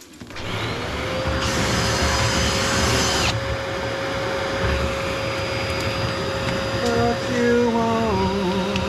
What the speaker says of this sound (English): Yeah, vacuum on.